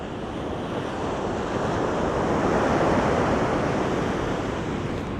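Ocean waves break and wash at Childers Cove at night, a loud, steady roar of surf with wind noise buffeting the microphone and no voices.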